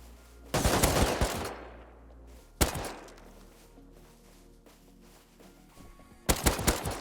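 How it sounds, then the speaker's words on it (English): SAR rifle gunfire in the Rust video game: loud rapid bursts of shots at the start, a single sharp report in the middle and another burst at the end, with echoing tails between them. "I'm so bad with the SAR after like the first 3 bullets."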